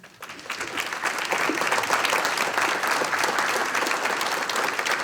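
Applause from a large audience at the 45th annual Abe Lincoln Awards swells within the first half-second, then holds as a loud, dense roar of clapping for several seconds.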